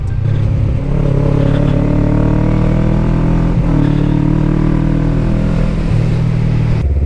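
A motorcycle engine runs steadily and close by, its low rumbling tone rising and falling with the throttle in gentle revs throughout, with no voices over it.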